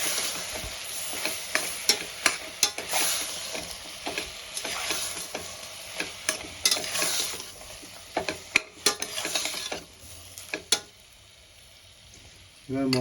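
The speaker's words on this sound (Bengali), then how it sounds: "এবার মশলাটা আমি ভালো করে কষাতে থাকবো" Tomato and spice masala sizzles and fries in a pan for South Indian style tomato rice, with repeated scraping stirs and clinks, loud and close, the frying falling quiet near the end before resuming.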